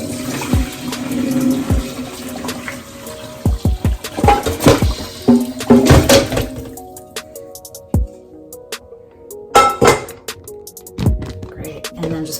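Soup broth pours and splashes heavily through a strainer into a bowl in bursts, with gurgling and dripping between pours and some clattering; a voice speaks briefly.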